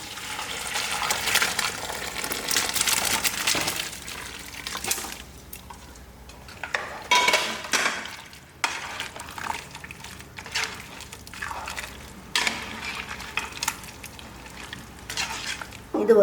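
Mutton cooking water poured into a pan with chilli powder, a steady rushing pour and bubbling sizzle, close and fairly loud, continuing with stirring and clinks of the pan.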